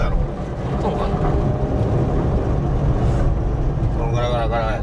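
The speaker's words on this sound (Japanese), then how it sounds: "内部的なマフラーの振動なんやろうけど" Steady low rattling drone of a Honda Life JB5 car exhaust, continuous and rough, from internal muffler vibration, with a faint voice coming in near the end.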